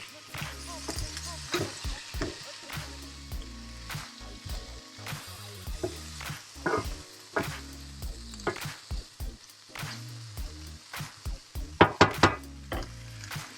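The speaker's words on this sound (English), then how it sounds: "Now we're just gonna cook this spinach really fast and let this lime juice to dry." Spinach and lime juice for a Mexican hash sizzle steadily in a hot pan, with crisp knocks and scrapes from stirring and a few sharper clatters near the end; no one talks.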